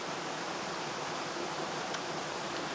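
Watui Falls waterfall pouring steadily, a constant broadband rush of falling water with no breaks, even in level throughout and heard alone with no voices.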